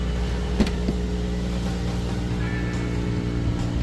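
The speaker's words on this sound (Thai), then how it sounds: "สตาร์ททีเดียวติดนะครับ" An Isuzu Cameo with a 1JG turbo engine idles steadily in a close, even low rumble, with one faint knock early on.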